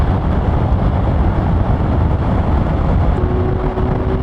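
Kawasaki Z900 naked motorcycle, a 2020 model, with its engine pulling under steady throttle, a constant dense drone mixed with wind rush; a faint higher tone rises near the end.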